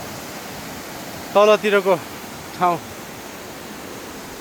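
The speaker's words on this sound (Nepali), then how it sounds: "छहराबाट बगेर आएको पानी यस्तो छ, यस्तो कञ्चन पानी छ" Water flowing from Dhage waterfall in a forest, heard as a steady, even rush that fills the whole clip. Someone speaks briefly over it.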